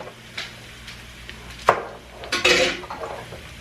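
A spoon scraping and tapping against a pan while minced garlic is added for sautéed mushrooms with zucchini, a few close clinks and scrapes ending in a louder clattering scrape.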